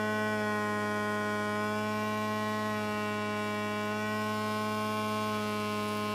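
Kromrey converter machine giving a steady, close electrical hum with many stacked harmonic tones, constant and unbroken throughout with no talking.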